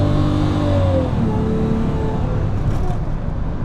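Jaguar XJ-S V12 engine revving under added throttle, a smooth, sustained rising drone close to the microphone with faint talk over it.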